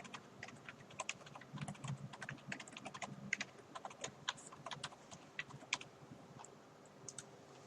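Someone types a password on a computer keyboard, a quick, irregular patter of light key clicks heard up close, with no voices.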